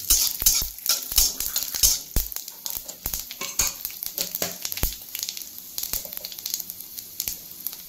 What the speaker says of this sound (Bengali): একটু পাঁচফোড়ন সম্বার দেবো